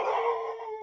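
A single drawn-out dog howl or whine, close and loud, sliding slightly in pitch over less than a second with no talk.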